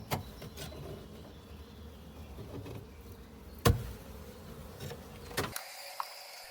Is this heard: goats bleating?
no